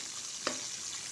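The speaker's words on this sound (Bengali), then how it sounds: "মাছগুলো আমি প্রথমে লাল লাল করে ভেজে নিচ্ছি" Shing catfish rubbed with turmeric and salt frying in hot oil, a steady broadband sizzle with one brief sharper crackle midway, close and fairly quiet, no voices.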